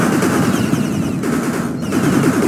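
Continuous rapid machine gun turret fire in the strategy video game 9-Bit Armies, a loud steady rattle of overlapping shots with brief dips, heard alone.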